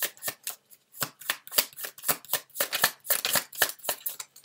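A deck of tarot cards is shuffled at close range, with rapid, crisp riffling bursts repeating in a quick, uneven rhythm, no talk alongside.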